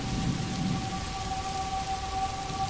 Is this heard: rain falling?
yes